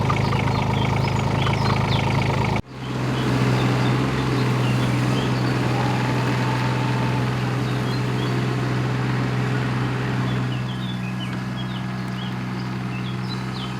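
A roughly 1,700 kg tractor engine labouring uphill, a steady low droning rumble close by after a sharp break near the start, with faint rattles and no talk.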